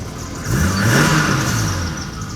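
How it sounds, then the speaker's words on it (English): A BMW E30-era car engine revs up sharply after a high-pressure fuel pump and filter replacement, rising in pitch and loudness, then settles back down, close by and heard on its own. "Let's give it a couple revs."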